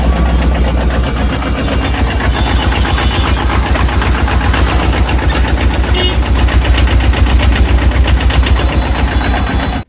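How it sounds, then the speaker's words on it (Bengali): An old Laguna vehicle's engine idles steadily and loudly up close, a dense rapid chugging knock that runs evenly for the full stretch with no talk over it. "ভিউয়ার্স, আমরা একটু ইঞ্জিনের সাউন্ডটা শুনবো"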